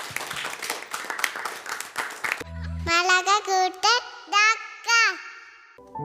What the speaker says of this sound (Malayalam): ഒന്ന് ഈശോയ്ക്ക് ഒരു കയ്യടി കൊടുത്തേ.